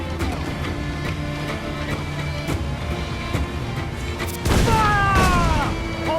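Ship cannons fire during a naval battle in Assassin's Creed 4: Black Flag, low booms rumbling under a dense bed of combat noise, with a heavier blast and crashing impact near the end.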